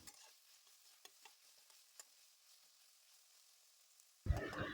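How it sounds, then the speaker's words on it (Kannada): Tomatoes with salt are stirred in a pan, giving faint scraping taps for most of the stretch before a loud, close burst of sizzling takes over near the end. "ಉಪ್ಪನ್ನು ಹಾಕಿ ಮತ್ತೆ ಇದನ್ನು ಮಿಕ್ಸ್ ಮಾಡಿ ಟೊಮೊಟೊ ಸ್ವಲ್ಪ ಬೇಯೋವರೆಗೂ ಇದನ್ನು ಬೇಯಿಸ್ಕೊಳ್ತೇನೆ"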